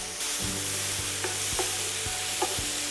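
Finely chopped tomato frying in a pan with garlic and ginger, a steady sizzle broken by several distinct stirring scrapes and clinks spaced under a second apart, close and fairly loud.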